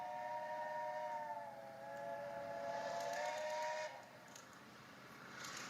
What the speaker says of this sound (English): that is a marvellous whistle